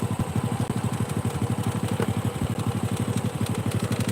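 A Honda Supra motorcycle engine runs close by at a steady idle, throbbing with a fast, even mechanical pulse and a little clatter, and nobody speaks over it.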